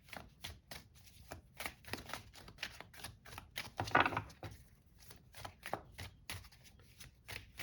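A tarot deck is shuffled by hand in quick, crisp riffles and flutters, repeated in a steady rhythm close up, with one longer riffle in the middle and no speech over it.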